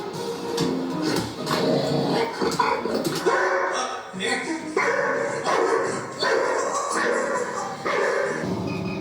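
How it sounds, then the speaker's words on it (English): A dog growls and barks at its own reflection in a mirror, with a run of close, rough bursts and yips that come in uneven clusters, mixed with some background voice. "This dog is growling at itself in the mirror."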